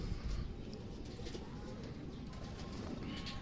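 A racing pigeon coos softly at the loft after a race, faint and low against steady background noise.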